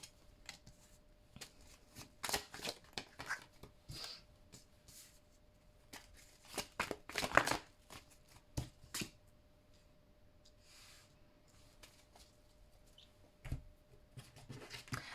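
Tarot cards are shuffled and handled close up during a reading, with bursts of riffling and soft slaps spread across a quiet background.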